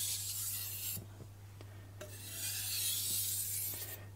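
Steel knife edge, vg10, stroked edge-leading across a fine Japanese whetstone in short sliding passes, a soft dry rasp repeating with brief pauses near the mic over a steady low hum.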